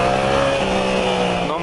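A Yamaha FZ-07 motorcycle revving on a city street, its engine note climbing in pitch through a short burst of acceleration, loud and close, with no talk.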